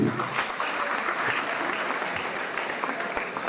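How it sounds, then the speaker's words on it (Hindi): A hall full of people at a university Independence Day celebration claps together in a dense, continuous patter, moderately loud and steady for a few seconds with no talking over it. "उन्हें आप जोरदार ताली बजाइए"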